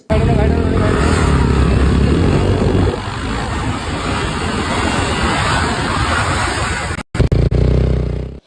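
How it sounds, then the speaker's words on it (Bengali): Motorcycle stunt riding on a local road: a loud, continuous engine roar with revving and clatter, steady for about seven seconds before cutting out briefly and returning in short bursts. "কখনো এক হাতে, কখনো বাইকে 3 জন, কখনো আবার নানান কায়দায় করছে বাইকে স্টান্ট"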